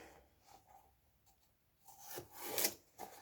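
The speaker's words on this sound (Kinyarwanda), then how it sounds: "Izi karoti ndi gukata namaze kuzikuraho ibishishwa." A knife slices through peeled carrots on a cutting board in a home kitchen as lasagne is prepared, giving soft scraping cuts that grow louder and denser toward the end, with no talking.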